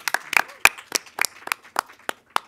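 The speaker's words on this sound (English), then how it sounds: "One round of applause for that." A sparse round of applause from a small audience at a film career talk, about a dozen distinct claps spaced irregularly, close and fairly quiet.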